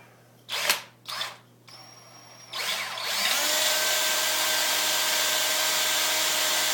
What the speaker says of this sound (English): And I'm just going to drill the hole out.